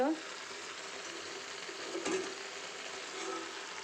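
Meat frying in a pan with raw potato and onion, a steady close sizzle lasting the whole moment, briefly swelling midway as the pan is stirred, with no talk.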